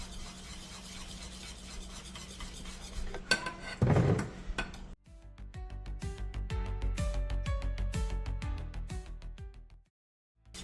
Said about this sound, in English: you wanna whisk rigorously while you're adding this so it doesn't clump